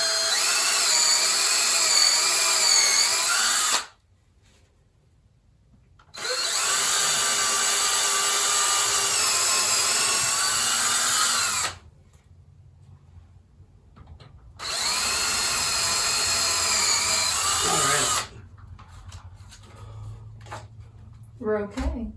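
A power drill drives screws into a sink bracket in three long, loud whirring bursts that stop abruptly, separated by pauses with low background noise, and voices talk briefly near the end.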